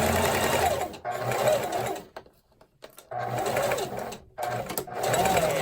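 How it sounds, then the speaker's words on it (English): A sewing machine stitches fabric for a face mask, loud rapid mechanical bursts in three runs separated by short pauses as it back-stitches to lock the seam. "And again, back stitch, locks it in, pull it out."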